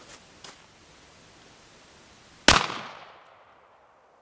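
A shotgun fires an electronic shell loaded with a small capacitor backed by wax and birdshot: one sharp, loud outdoor crack that rings out and decays over about a second, after faint rustling.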